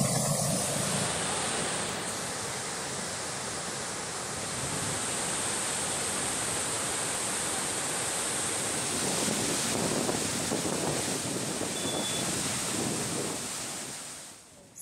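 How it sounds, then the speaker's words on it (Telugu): Swollen after rain, the Peddavagu stream at Aleru in Yadadri district of Telangana surges with a dense, continuous roar of rushing water, loud and steady throughout, with no voices. "యాదాద్రి జిల్లాలో ఆలేరు పెద్దవాగు ఉధృతంగా ప్రవహిస్తోంది"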